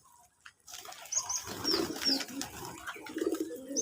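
Domestic pigeons on a pigeon farm coo softly and repeatedly, with occasional chirps and brief wing flaps close by. No voices are heard.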